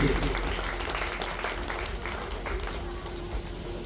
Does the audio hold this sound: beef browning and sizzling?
no